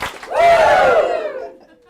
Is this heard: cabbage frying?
no